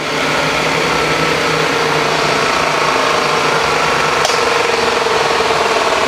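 A valve for a GM 5.3 engine being machined during an engine overhaul gives a loud, continuous grinding whine from close by, steady and unbroken, with one brief sharp tick partway through.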